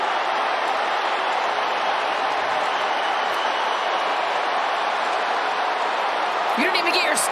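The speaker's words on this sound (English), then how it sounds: "there's the crowd having their say in this young rivalry" A soccer stadium crowd roars in a steady, dense wash after a goal early in the second half of an Atlanta United versus Charlotte FC match, sustained and loud throughout.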